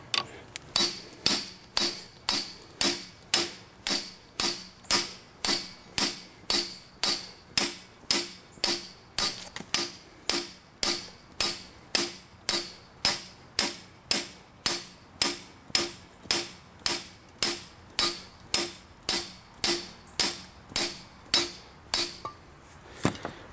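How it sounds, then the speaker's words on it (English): A mechanic's hammer strikes metal in a workshop during work on a Mercedes diesel trailer-mounted power unit: about forty sharp, evenly spaced blows land in a steady rhythm, close and loud, with no talk. "Ain't that one of them there Mechanics hammers?"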